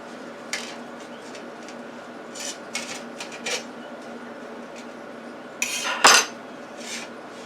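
Tongs and metal utensils clink and scrape while a rib-eye steak is flipped inside a hot Power Air Fryer Oven: a few sparse light taps, then a louder clattering scrape near the end, all close by over a low fan hum.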